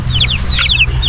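Young Rhode Island Red chickens, about a month and a half old, clucking and cheeping in quick high chirps over a steady low background hum, close by and fairly loud.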